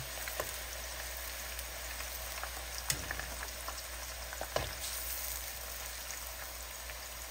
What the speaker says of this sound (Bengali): বেরেস্তার জন্য পেঁয়াজ ছেড়ে দিলাম, খুব বেশি দিব না যাতে ভাজাটা আমি পারফেক্ট করতে পারি।